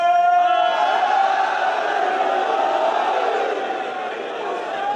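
At a religious majlis for the night of Ashura, a large crowd chants a slogan in unison, a loud sustained roar of voices that slowly fades.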